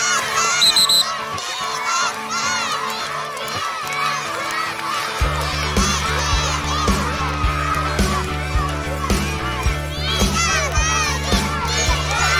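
Children at a primary school sports day shout and cheer as a crowd, loud overlapping voices with a steady low hum joining partway through.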